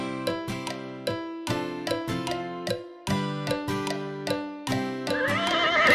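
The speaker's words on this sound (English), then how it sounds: "Horsey, horsey, don't you stop. Just let your feet go clippity-clop." A cartoon horse neighs and whinnies amid a bright nursery-rhyme tune with rhythmic clip-clop beats, and a wavering whinny stands out toward the end.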